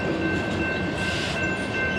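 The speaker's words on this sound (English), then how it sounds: "all the locomotives are fueled on this loaded coal train" Loaded BNSF coal train with fueled locomotives rolling past close by, a loud steady rumble of wagons with a faint tonal horn-like hum running through it.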